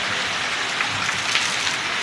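Steady rain pours down in Narayanpur village, Bihar, a dense even hiss of drops on surfaces, close and continuous with no talk.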